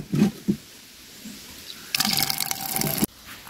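Water poured into a cooking pot on a gas stove in a home kitchen, a broad splashing rush lasting about a second after a few soft knocks, close and fairly loud with no talk.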